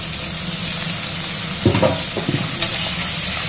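Crab claws fry in oil with a steady close sizzle, broken by a few brief clattering stirs in the pan partway through, and no voices.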